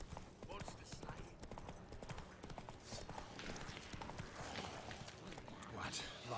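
Horse hooves clop in rapid rhythm as a horse gallops in the video game The Witcher 3: Wild Hunt, a steady continuous run heard under a voice talking.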